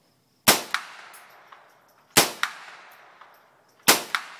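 A .22 rifle fires three thin, sharp reports spaced under two seconds apart, each a weak crack followed by a short ringing decay, with quiet between shots.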